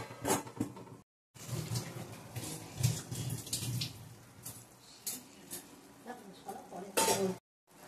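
A lid set over a pan of lote fish jhuro cooking in mustard oil, giving soft metallic clinks and scrapes amid sizzling and kitchen clatter, close and moderately loud.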